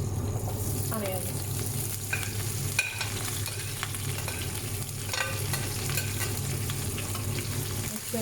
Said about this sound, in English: And now I'm gonna add the onions.